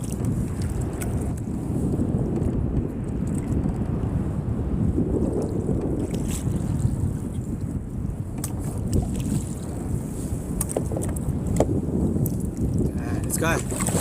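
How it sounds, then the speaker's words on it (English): A kayak paddled out on open water while fishing at Westbrook, with steady buffeting wind over the microphone largely masking soft water sloshing and paddle movement throughout. "Just wanna paddle a bit."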